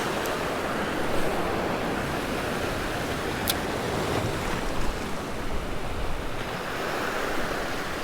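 Small ocean waves wash against a rocky Nicaraguan shoreline in a steady, unbroken roar of surf. The sound is close and fairly loud, with faint wind gusts and no voices.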